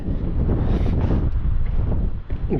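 Strong wind in fog buffets the microphone with a loud, continuous roar and gusty rumbling throughout, heard while riding an electric mountain bike.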